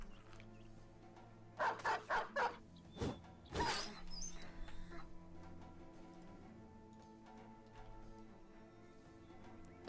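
A war dog in the video game Battle Brothers barks in a quick burst of four sharp barks, followed by a couple of louder yelps, over steady game music with ticking clicks.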